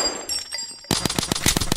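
Bursts of automatic gunfire aimed at a house in a Roblox game: after a quieter stretch with a few faint tones, a quick series of sharp, close shots rattles out in an uneven rhythm.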